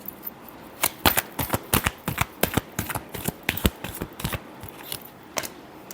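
Tarot cards being shuffled by hand, a fast run of crisp riffling slaps and flicks, close and fairly loud, with no talking over it.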